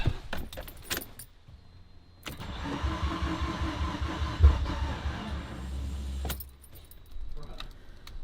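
Keys jangle, then a Honda Integra's engine cranks and turns over, running with a mid-pitched rumble for several seconds before cutting out, followed by more key rattles.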